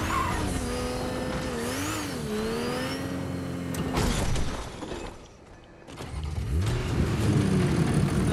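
Car engine in a video game, held at a steady pitch that wavers and dips, then a brief lull before it revs back up and roars louder, with tire noise along the way.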